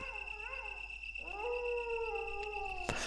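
Dogs in the survival horror game Resident Evil howl and whine over a steady game soundscape, a couple of rising and falling cries, fairly close, ending with a sharp hit.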